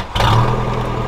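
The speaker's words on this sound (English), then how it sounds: "carbureted, so you gotta give it a couple cranks before it starts." A carbureted camper van engine catches after cranking and settles into a brief, close, rumbling rev with a steady low hum.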